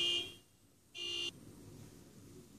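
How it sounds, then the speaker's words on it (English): Two electronic beeps from a car alarm, a longer one then a shorter one after a pause, moderately loud over quiet background hum. "A car alarm went off next door."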